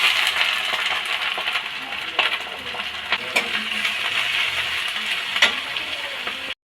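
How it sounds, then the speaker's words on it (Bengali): Chopped green chilies and onions sizzling in hot oil in a pan while cooking chow mein, a continuous close crackle and hiss with a few sharp metallic clinks from stirring. "তেল গরম হয়ে গেছে, এখন আমি লঙ্কা কুচনো দিয়ে দেব। এখন আমি পেঁয়াজ কুচনো দিয়ে দেব।"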